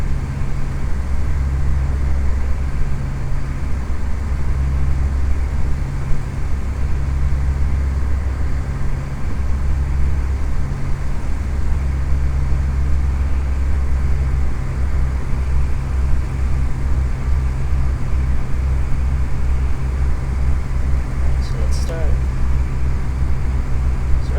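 A propeller aircraft engine in flight in the FSX flight simulator, a loud, steady droning hum with a low, even pitch that runs unbroken from start to finish.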